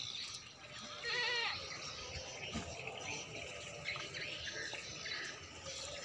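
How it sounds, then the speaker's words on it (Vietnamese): Goats bleating on a farm where a herd is kept, a few short bleats at moderate distance over a steady outdoor hiss and faint rustling. "Đây, đây là một số dê của mình các bạn."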